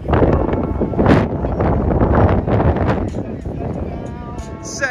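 Gusty wind rumbles against the microphone at a flag football game in Palm Springs, California, with a voice talking over it and scattered bursts of buffeting.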